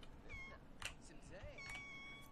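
Cat from The Sims 4: Cats and Dogs giving a series of short, high, sing-song meows in a happy mood, close and clear over a soft game music bed.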